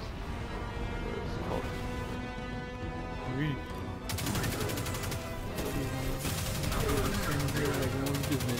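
Automatic gunfire in the video game Destiny 2, an extended rapid burst of closely spaced shots breaking out midway and continuing loud and near to the end, over prior game sounds.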